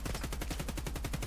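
Rapid automatic fire from a DT MDR bullpup rifle in Escape from Tarkov, a steady stream of about a dozen sharp shots in quick rhythm, loud and close with no talking.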